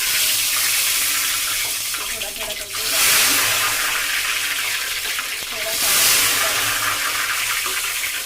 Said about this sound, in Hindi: हमारा घी गर्म हो गया है। तो हम इसमें डाल रहे हैं घोल।